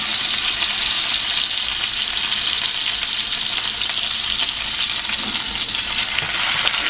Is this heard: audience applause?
no